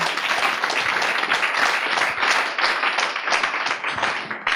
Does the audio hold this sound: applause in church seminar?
yes